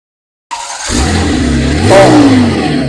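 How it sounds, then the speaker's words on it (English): A 2002 Porsche GT2 engine cranks and catches after a moment of silence, then settles into a loud, steady idle that rises slightly as it is revved once. No voices are heard. "I'm going to get a start up on it right now"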